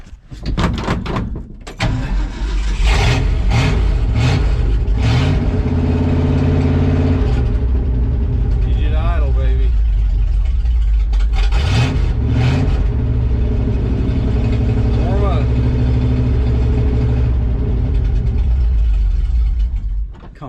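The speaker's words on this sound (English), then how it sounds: "Get this thing idling." A 1970 Ford F250 truck engine cranks cold on a jump pack, catches and settles into a loud, steady idle that runs on with slight roughness, close to the microphone.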